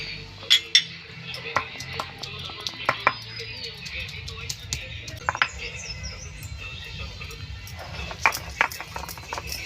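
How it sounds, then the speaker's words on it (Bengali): Garlic is ground into paste on a traditional grinding stone, giving irregular gritty knocks and scraping strokes, close and moderately loud, over a low background rumble. "এবার আমি রসুন বাটবো"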